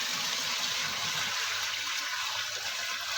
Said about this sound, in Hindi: हमको गर्म पानी डालना है,